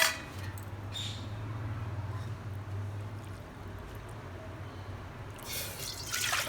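Water is poured from a measuring cup into a cooking pot while making katte pongali, a soft, steady, faint trickle and splash heard alone, with a slightly louder splash near the end.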